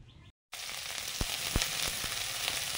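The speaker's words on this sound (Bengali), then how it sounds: "এই জন্য পেঁয়াজ লঙ্কা ভাজছি" Onions and chillies fry in a pan, a steady soft sizzle after a short silent gap, with a few sharp pops and crackles scattered through.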